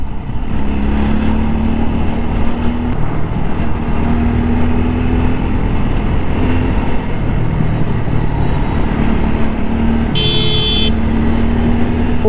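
A car grinds slowly along a rough off-road track, its engine a continuous low rumble throughout with faint passing tones and a short bright chirp near the end.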